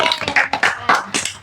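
A small group claps briefly, a quick scatter of close hand claps lasting just over a second, without talk.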